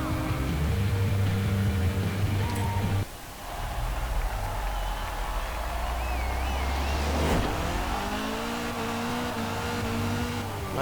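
Upgraded car in Forza Horizon 4 revving on a race circuit, a loud steady engine drone that drops briefly then climbs again to a higher, sustained pitch.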